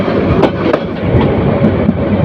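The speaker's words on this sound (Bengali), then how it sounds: "ট্রেনটি সুন্দর একটি বাঁক নিচ্ছে বাঁক নিয়ে এগিয়ে চলছে পুরো ট্রেনটি" The Mohanagar Provati Express between Dhaka and Bhairab rolls along a curve, a loud, steady close-up rumble on the rails with faint rhythmic wheel clicks.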